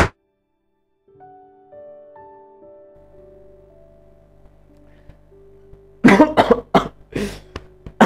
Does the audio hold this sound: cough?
yes